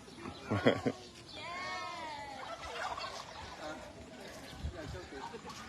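A turkey gobbles in a rapid, warbling burst near the start. Fainter calls and background voices follow in an outdoor setting.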